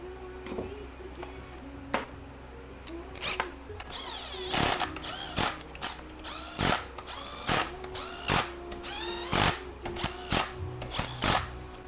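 A ratchet snugs a bolt on a 5R110W TorqueShift transmission, its pawl clicking in quick repeated bursts of back-and-forth strokes, loud and close with a faint hum behind.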